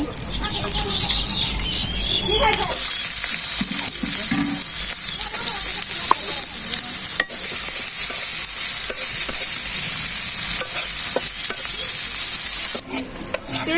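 Bay leaves and spice paste frying in a pan over a village kitchen fire, a steady loud sizzle with stirring scrapes running throughout, faint bird calls in the background.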